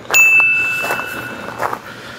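A notification bell ding rings once, bright and clear, then decays into a long sustained ring. A softer chime follows near the end.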